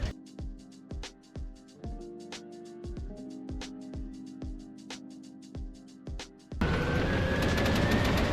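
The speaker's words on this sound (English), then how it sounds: "I hear autocannon fire as I approach the ramp to C point" Autocannon fire in a multicrew tank combat video game, a steady series of heavy booming shots at regular intervals, followed by a sudden loud burst of noisy roar near the end.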